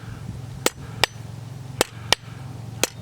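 Blacksmith hammer blows on hot metal during a forging exercise, the flat face of the hammer striking at a diagonal: five sharp ringing impacts at uneven intervals over a low steady hum, close and clear.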